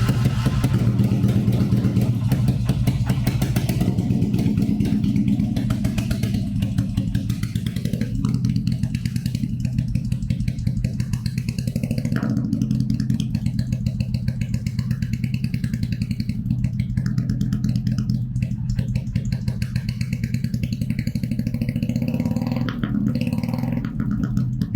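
A Kawasaki Vulcan 400 motorcycle with a straight-type muffler rumbles close by for about 25 seconds, a deep, loping idle with occasional clattering blips of throttle.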